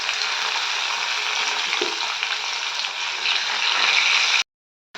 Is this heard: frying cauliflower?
yes